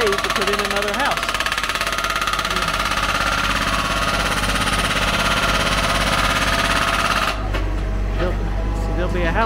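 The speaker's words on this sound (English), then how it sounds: "Here's an excavator with a jackhammer on it that's making a cave to put in another house." An excavator-mounted jackhammer pounds into rock to carve a cave house in Setenil, Spain, a rapid, loud, continuous hammering over a diesel engine drone, with a voice speaking over it.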